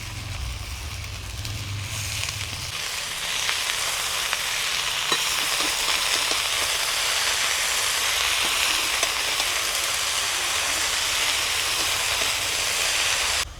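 Chopped fenugreek greens hit hot oil over frying potato and eggplant, setting off a loud, steady sizzle and hiss that swells after a low rumble and keeps going.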